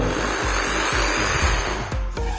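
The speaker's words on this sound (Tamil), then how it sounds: "இப்போ வந்து இந்த நான் ப்ரெஸ் பண்ணுறேன் ட்ரில்லை ஸ்லோவாக ப்ரெஸ் பண்ணால் மீடியமாக ஸ்லோவாக வரும்." Black and Decker 550W hammer drill whirring at slow speed, a steady motor drone that stutters in rhythmic surges while the trigger is eased, close and continuous with no talk.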